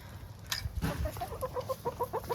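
Chickens clucking in a quick, steady series of short notes, close by, with a brief higher call near the start.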